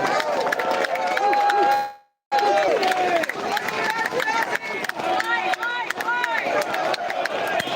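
Crowd at a rainy outdoor rally, loud and close, with cheering, whistles and clattering noise that break off briefly and then resume, voices mixed throughout.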